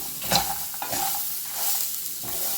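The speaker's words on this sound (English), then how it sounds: "Just give everything a nice mix and your dish is ready to eat." A spoon stirs and mixes a chickpea salad with grated coconut, a soft continuous scraping and rustle that swells slightly twice, close and fairly steady, with no voices.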